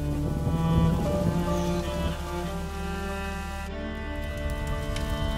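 Steady rain falls in A Plague Tale: Innocence, a continuous wash of downpour under a layered, droning musical score, with no break for the whole stretch.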